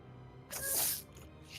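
A single sharp sneeze bursts out over a quiet room, a brief breathy blast lasting about half a second before fading back to near silence.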